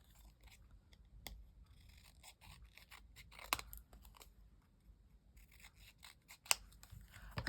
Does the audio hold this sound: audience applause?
no